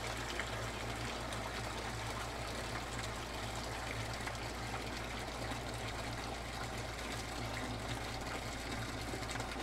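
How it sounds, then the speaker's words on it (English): Water runs steadily from a tap while a sourdough baker checks its temperature, a constant soft rushing flow heard throughout with no talking. "Let's see if this water is still coming out where I want it."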